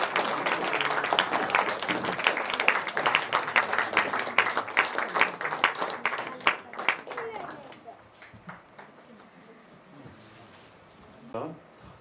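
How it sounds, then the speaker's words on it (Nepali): An audience at a Nepali Christian book launch event gives sustained, lively applause that fills the room, then thins out into a few scattered claps and fades. "हामी सबैजना उठ्नेछौँ र ताली बजाइराख्नेछौँ"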